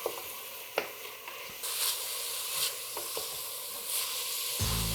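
Vegetables for a lima bean pilaki sizzle gently in a pan over low heat with a constant soft hiss, punctuated by several sharp clicks and scrapes of stirring.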